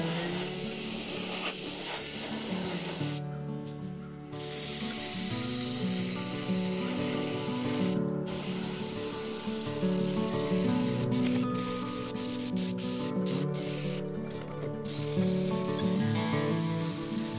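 An airbrush hisses in long continuous passes while spraying base colors onto a wood-carved brown trout, with a few brief pauses between bursts and no talk.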